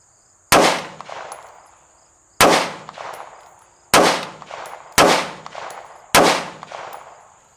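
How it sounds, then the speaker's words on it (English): Five rifle shots fired freestyle for a group through a Monstrum Spectre 1-6x24 LPVO scope, each a loud, sharp crack with a short ringing decay, spaced about a second or more apart at an outdoor range. "I'm gonna shoot a 5-shot group, freestyle here."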